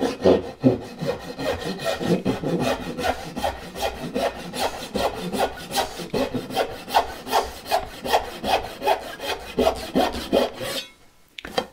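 A hand saw cuts the cheek of a through tenon in wood for a saw rack, steady back-and-forth rasping strokes, close and loud, continuing for about eleven seconds before stopping abruptly.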